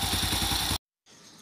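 A rebuilt Euro Sport 110 motorcycle engine with new crankshaft bearings, connecting rod, rebored cylinder, piston and rings runs in a steady, even putter up close, cuts out briefly, then resumes more faintly.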